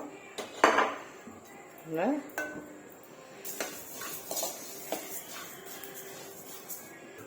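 Coriander seeds dry roasting in a metal pan, with intermittent scraping and light clinking of a spatula against the pan in irregular bursts, close and moderately quiet.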